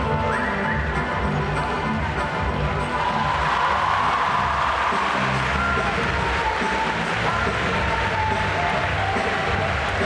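Audience applause and crowd noise fill an indoor arena at the Cavaliada Future show jumping event in Lublin, steady and loud throughout, with faint horse sounds and a commentator's voice mixed in.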